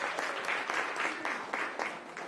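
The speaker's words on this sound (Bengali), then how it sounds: "সবাই হাততালি" Audience clapping at a prize-giving during a Bengali cultural night in Melbourne, a steady, dense round of applause with rhythmic swells throughout.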